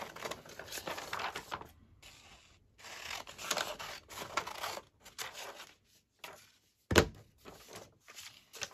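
Scissors snipping through paper to cut out an image for a layered envelope journal page, a run of close, irregular rustling cuts with short pauses and one sharper thunk near the end.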